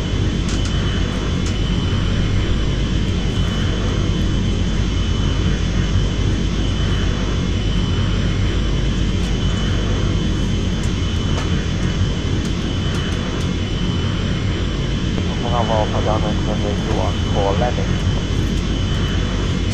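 Steady, loud jet roar of an L39 Albatros in the Eurofly flight game, a constant whining drone with a high tonal whistle, unbroken throughout.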